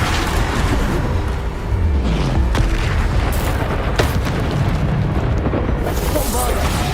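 Repeated Bombarda spell blasts in the video game Hogwarts Legacy, heavy booming explosions layered over a constant loud rumble of battle noise, with voices mixed in.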